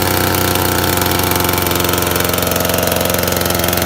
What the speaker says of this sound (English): We need the chainsaw to run for about a minute, let it warm up